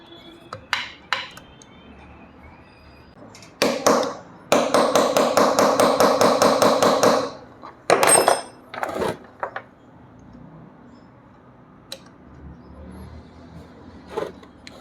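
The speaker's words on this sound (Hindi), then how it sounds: "देखिए ये पेंच हिल नहीं रहा था, उसे थोड़ा ऊपर नीचे से पंच किया तो वो हिलने लगा" Metal tool strikes punch a stuck screw loose on an overlock machine being repaired, first as scattered single taps, then as a rapid, loud rattling burst of hits, followed by more sparse sharp knocks, close by with no speech.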